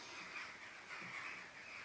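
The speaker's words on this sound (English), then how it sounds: "Sounds like I've got the crows outside." Crows caw outside, heard distantly through a steady background hiss, their calls faint and drawn out rather than sharp or close.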